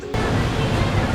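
Roar of a remote Indonesian waterfall, a dense, steady rush of falling water that starts abruptly and holds loud and close, with no voices.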